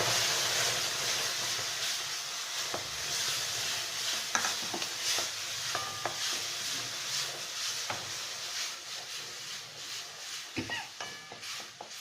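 Two tomatoes go into a pan of mixed vegetables cooking without onion or garlic, giving a steady close hiss and sizzle broken by scattered clicks and scrapes of stirring.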